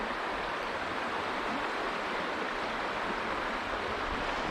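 A waterfall in the Mill Creek Park gorge in Youngstown, Ohio, pours in a steady broad rushing roar, constant and fairly close with no other sounds breaking through.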